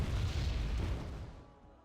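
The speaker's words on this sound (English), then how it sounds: "the artillery can continue to fire in various zones that we think the enemy may be" A deep artillery boom in the strategy game Wargame: AirLand Battle, heavy and rumbling, decaying over a second or so with no talk.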